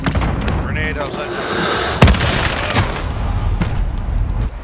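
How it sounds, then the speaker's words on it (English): A grenade blast in a first-person shooter game, a single sharp boom landing about midway through, amid steady gunfire and battle noise with a voice talking over it. "Throwing grenade. Grenade outside."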